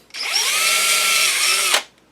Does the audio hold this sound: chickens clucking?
no